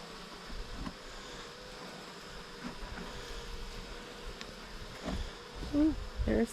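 Bees swarm with a steady buzzing drone while being moved into a hive using foam rubber strips, a continuous close hum with a few louder passes near the end.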